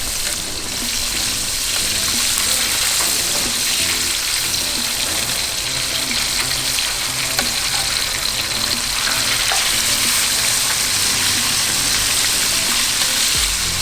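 Whole yellowtail snapper deep frying in hot oil, a dense continuous sizzle and crackle holding steady and fairly loud the whole time, alone without voices.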